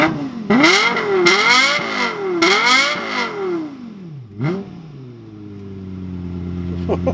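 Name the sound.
Lexus LFA engine revving in neutral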